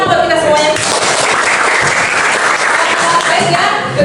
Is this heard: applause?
yes